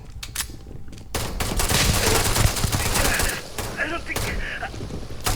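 Sustained bursts of automatic gunfire and rapid shots in the video game Starfield, loud and dense with brief pauses, with mechanical clatter in the mix.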